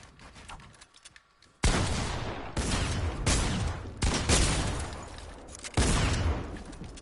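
Video game gunfire sounds in several loud, sustained bursts of rapid shots, separated by brief gaps after a quieter opening, close and harsh, with no talking.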